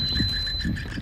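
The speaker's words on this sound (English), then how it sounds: "Is that the fire alarm going off, or...?" Fire alarm in the Layers of Fear video game: a steady high electronic tone holds throughout under a pulsing low throb, loud and continuous for a brief moment.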